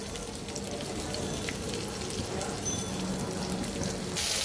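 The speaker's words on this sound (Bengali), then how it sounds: "হালকা একটু ভেজে নেব" Hilsa fish frying in a kadai, a steady soft sizzle and spatter of oil running continuously, moderately quiet, brightening slightly at the very end.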